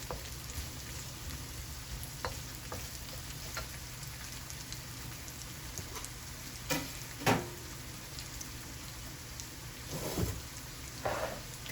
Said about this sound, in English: While that is frying up